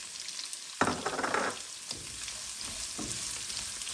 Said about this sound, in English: To this, I'll add in my chopped onions.